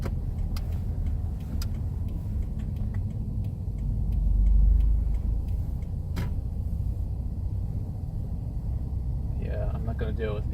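A 2015 Subaru WRX with a MAP Stage 1 tune driving on a snowy day, a steady close engine and road drone with a swell near the middle, light ticking, and a voice briefly near the end.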